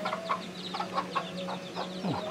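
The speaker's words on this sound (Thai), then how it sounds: "ตัวนี้คอกไก่นะครับ" Chickens clucking in a village coop, a series of short, bright clucks at a steady irregular rhythm, close and clear over a low steady hum, with one sharper squawk near the end.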